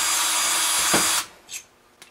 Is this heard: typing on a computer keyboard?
no